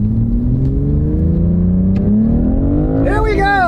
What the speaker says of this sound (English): you listen to that downshift. It is that ZF 8-speed.